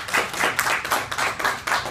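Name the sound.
audience applause at a college debate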